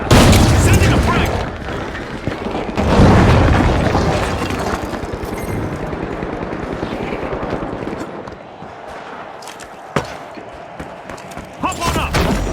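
A frag grenade detonates in the video game The Finals, a loud booming blast that rumbles and fades, followed by scattered smaller thumps, pops and game clatter, with voices talking over it.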